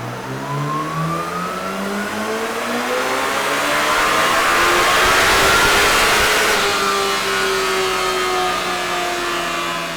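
A Kawasaki compressed inline four-cylinder superbike engine, rated at 231 horsepower, accelerates hard from a standing start over 1000 metres. It gives a loud, continuous howl whose pitch climbs steadily, peaks mid-pass, then holds high as it carries on.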